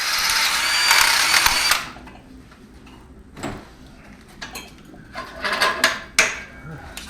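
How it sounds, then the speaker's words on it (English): A power drill boring holes through two stacked plates while building a roll cage, a loud whining drill run for about two seconds, then scattered clanks and metal handling noises, with talking over it. "we'll stick the two plates together and drill both holes at the same time"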